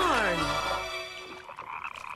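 A cartoon frog gives a loud, sweeping croak that slides downward and fades into quieter noise.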